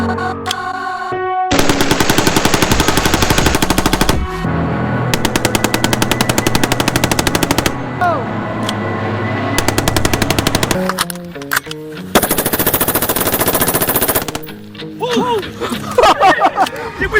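A Q Honey Badger rifle in 5.56 fires long, rapid automatic bursts outdoors during a stress test, very loud and close, with short pauses between strings, echoes, and people talking and exclaiming in the gaps.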